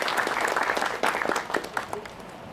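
Steady applause from an audience at a university student council swearing-in ceremony, dense clapping throughout at a consistent level, with no voices over it.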